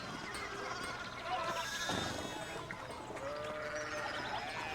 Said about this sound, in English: Look at all these sheeps.